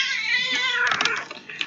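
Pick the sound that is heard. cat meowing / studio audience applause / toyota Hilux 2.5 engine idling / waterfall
cat meowing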